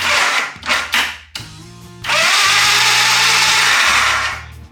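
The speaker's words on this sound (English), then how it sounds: "I'm just going to lay it against the head and turn the bike over." A motorcycle with a single-fire ignition cranks over during a spark plug test: a loud whirring starter spins in several short bursts, then a longer sustained crank, close by with no talk.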